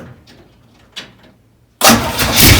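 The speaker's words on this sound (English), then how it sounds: "I'm going to just crank it over and get the oil pressure going" A 1935 Ford three-window hot rod that has sat unrun for a few years cranks over: quiet clicks first, then the starter and engine churn abruptly loud and close, a continuous rough turning with no firing.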